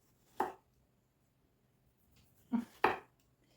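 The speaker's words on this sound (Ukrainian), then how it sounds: "Можна нарізати кільцями" A knife cuts through tomatoes on a board, slicing them into rings: one crisp chop, a pause, then two quick cuts close together, all near and isolated in a quiet room.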